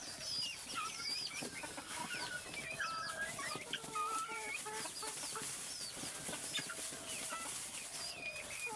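A flock of desi chickens clucks continuously at a moderate distance, with many overlapping short calls and squawks over a steady outdoor background.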